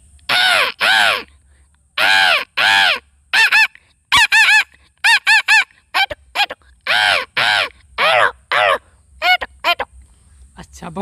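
A man imitates a caged parrot screeching at its owner, giving a string of loud, harsh squawks in short bursts and pairs, close up, with pauses between calls.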